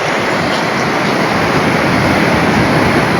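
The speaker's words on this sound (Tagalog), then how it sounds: "Kaya pala marami nagsisurf dito kasi ang lalakas ng alon." Strong surf at Casapsapan Beach in Casiguran, Aurora, a steady, loud, broadband roar of breaking waves with no distinct crashes, continuous throughout and with no voices.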